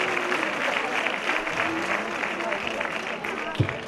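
Audience at a sports awards gala breaks into steady, dense applause for an honoree walking up, sustained clapping throughout with a brief thump near the end.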